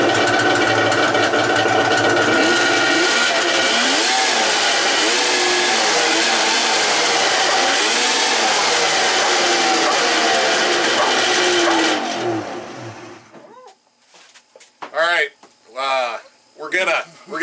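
A vintage Polaris triple-cylinder Wedge snowmobile engine runs loud and close with a raspy, buzzing two-stroke drone for about twelve seconds, then cuts off and fires back in a few short sharp revving bursts separated by silence.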